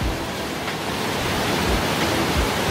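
Waterfall inside Hwansun limestone cave in Samcheok, water falling from the ceiling between stalactites as a loud, dense, unbroken rushing roar that fills the space evenly with no talk.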